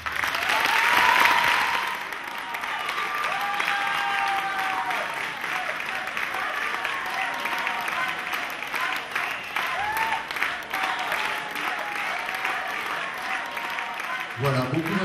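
An audience applauds the candidates at a competition, a dense clapping that swells early, then holds steady for several seconds before fading, with a voice speaking over it.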